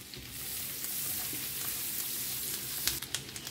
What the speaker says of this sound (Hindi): बस 1-2 मिनट के लिए हमें बटर में इसको अच्छे से भून लेना है।